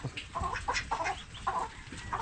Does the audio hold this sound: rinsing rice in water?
no